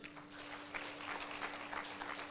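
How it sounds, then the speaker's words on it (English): Faint, steady clapping from a conference audience honoring a young teenage mother, an even patter of many hands heard at a distance over a constant electrical hum. "Clap for her."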